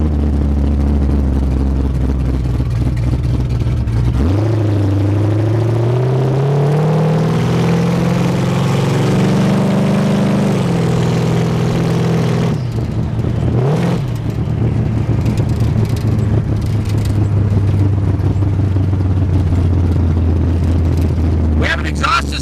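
Turbocharged engine of a 1971 Chevrolet Vega GT street car running loud and close, rising in a rev then settling back to a steady rumble, with a second brief throttle blip later.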